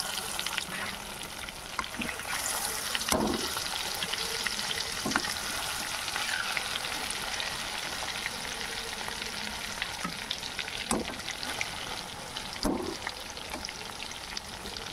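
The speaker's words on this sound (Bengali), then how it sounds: "মাছটা এখন ভাজা হোক" Pieces of rohu fish fry in a wok of hot mustard oil, a loud continuous sizzle with crackling pops and occasional scraping stirs, close by and without talk.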